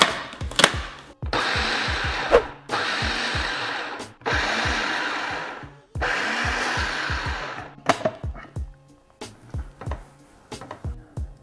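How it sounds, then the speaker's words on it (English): A food processor pulses canned black beans in several loud bursts of whirring motor noise, each lasting about a second or two and separated by brief pauses, followed by a few shorter clunks and taps. "We're gonna pulse these in the food processor until they're mostly processed through"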